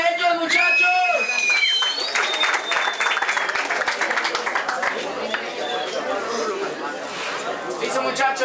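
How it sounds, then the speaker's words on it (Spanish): A crowd at a Cold Mind freestyle rap battle semifinal applauds and cheers loudly, dense clapping filling the space while people talk and shout over it. "un aplauso para ellos, muchachos"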